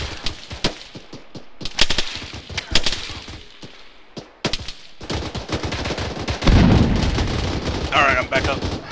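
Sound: gunfire in ARMA 3 video game

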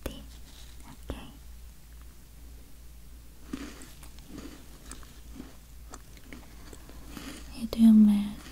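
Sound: chewing a flower-shaped cookie

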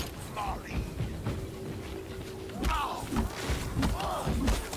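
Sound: club hitting an enemy in Far Cry Primal video game

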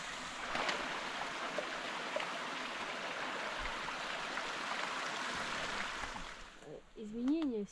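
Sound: mountain stream flowing

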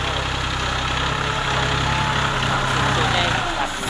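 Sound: New Holland TT45 tractor engine idling

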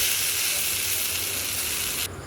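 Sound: frying in a pan

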